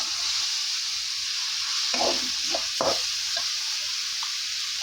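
Potatoes fry with browning onions in a pan, a steady sizzle with a few scraping stirs of a spoon close by, without voices.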